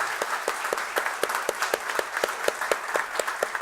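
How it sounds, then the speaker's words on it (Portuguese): Audience applause at the end of a lecture on Christian work ethics, a steady patter of many hands clapping in a room, fairly close and without talk. "se gostaram, uma salva de palmas"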